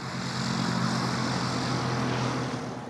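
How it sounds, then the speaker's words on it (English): The UK's first fully electric training plane taking off, a steady loud whirring propeller drone with a constant tonal hum, sustained throughout and fading slightly at the end. "It's time for takeoff, but not like you've ever seen it before. Charged up and ready to go, the UK's first ever fully electric training plane."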